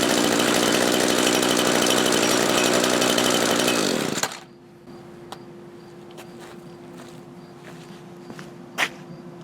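An Echo SRM-231 string trimmer with a newly replaced carburetor revs loudly and steadily for about four seconds, then drops to a smooth, quieter idle that hums on evenly with a few faint clicks.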